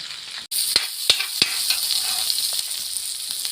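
Tilapia frying in hot oil gives off a steady, dense sizzle punctuated by sharp crackles and pops, close and fairly loud with no talking.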